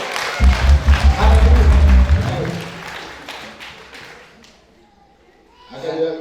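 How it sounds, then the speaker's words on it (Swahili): A church congregation claps for Jesus in loud, dense applause that swells, then thins out and fades, with a voice speaking near the end. "Pigia Yesu makofi mazuri"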